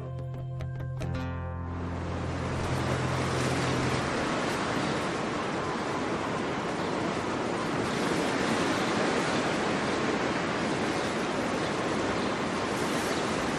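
Ocean waves roll onto the rocky coast at Muxía and Fisterra, a loud, steady wash of surf with wind noise, building in after a brief tonal intro.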